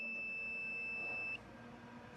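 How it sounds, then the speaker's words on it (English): A single sustained electronic beep from a continuity tester finding an earth on a Mk2 Golf's wiring, steady and fairly clear, cutting off after about a second and a half, leaving quiet hum. "if we find any with an earth, we know we will get a beep"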